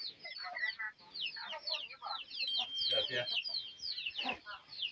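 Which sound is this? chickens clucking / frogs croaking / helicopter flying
chickens clucking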